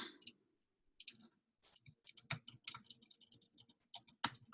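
A computer keyboard that cuts in and out clicks in sparse taps at first, then in a quicker irregular run of sharp keystrokes, close and quiet with no talking.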